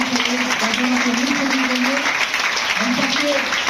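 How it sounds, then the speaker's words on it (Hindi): Hearty applause from an audience at a DXN business seminar in India fills the hall in a continuous wash, while a loud voice carries over it throughout. "एक जोरदार ताली"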